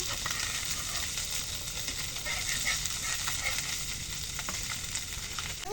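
Silver carp pieces frying in hot oil in a pan, a loud steady sizzle with popping crackles and occasional scraping stirs, close up and continuous throughout.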